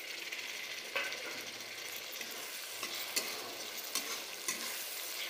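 Chopped tomatoes sizzle in a frying pan for a fish curry, with a steady close hiss broken by the occasional scrape of a stirring spoon.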